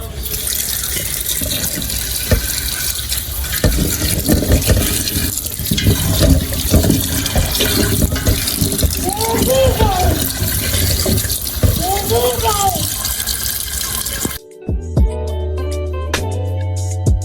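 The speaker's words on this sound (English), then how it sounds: "I'm just going to rinse it off and put it in." Pumpkin rinsed under a running kitchen tap, a loud steady gush of water close by with a voice speaking over it, ending abruptly as music takes over.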